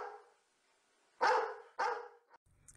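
Two sharp, close dog barks in quick succession, following a softer lead-in, then quiet.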